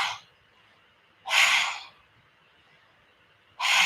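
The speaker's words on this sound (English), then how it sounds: "you're going to think of it like a dog panting" A person breathes in short, forceful bursts through an open mouth with the tongue out, a dog-like panting breath exercise for voice training; three separate loud breathy puffs are spaced by quiet gaps.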